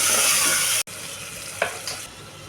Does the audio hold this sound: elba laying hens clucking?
no